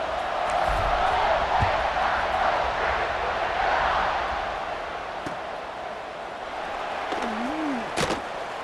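A virtual stadium crowd in EA Sports College Football 26 roars in a broad, sustained wash before kickoff. It swells early, then eases slightly, with a couple of sharp thuds near the end.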